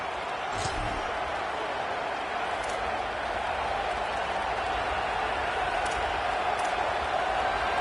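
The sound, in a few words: stadium crowd noise in a college football video game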